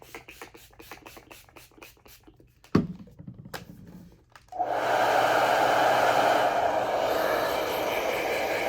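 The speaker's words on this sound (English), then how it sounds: "And then I blow dry my face" A handheld hair dryer blows on a face during a fall makeup routine. A few light clicks and rustles come first, then the dryer switches on partway through into a loud, steady, close whoosh that runs to the end.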